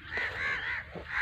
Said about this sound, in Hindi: और इसके साथ साथ कौवे भी बहुत ज़्यादा बोल रहे हैं।